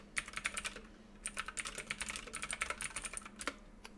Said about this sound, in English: And I'll just go ahead and type that.